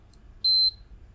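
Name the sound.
multimeter beep in diode test mode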